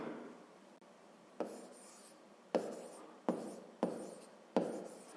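A pen writes fractions by hand on paper, giving quiet close scratching strokes, with five distinct taps as the pen touches down between strokes.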